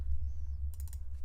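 Fast bursts of keystrokes on a computer keyboard, a short cluster of light clicks, close and fairly quiet over a steady low hum, with no talking.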